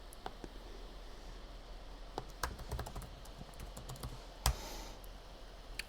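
Someone typing on a computer keyboard, irregular clusters of close key clicks with short pauses and one louder heavy press near the end, no talking.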